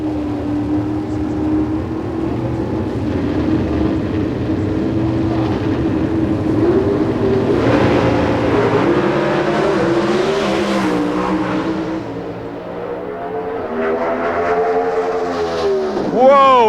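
NHRA Pro Stock drag racing cars accelerate at the 1995 Gatornationals in Gainesville, a continuous loud roar of engines with rising and shifting revs, sounding somewhat distant and broadcast-like.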